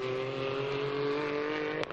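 A TM Evolution race car's engine at the 2022 Portimão race, a steady droning tone holding at a constant pitch from a distance, with a brief sharp burst near the end.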